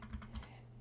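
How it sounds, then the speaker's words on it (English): A Glove80 keyboard fitted with new key switches is typed on, giving a few quick, close, thocky keystrokes in an uneven rhythm over a faint steady hum. "So I'm using glove80 keyboard."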